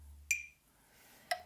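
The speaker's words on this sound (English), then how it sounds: "set the metronome on 60 on 4/4" Two crisp metronome clicks a second apart at 60 bpm in 4/4, faint and close, with quiet room hum between them.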